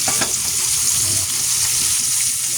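Pork sizzles and crackles steadily in a hot pan, a dense close frying hiss with small popping bursts throughout.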